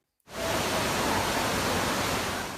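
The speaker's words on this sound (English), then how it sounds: "Waterfalls in the subway, rivers in the streets." Floodwater pours into a New York subway station during Storm Ida, a steady, loud broadband rush of water that starts abruptly and keeps going without any talk.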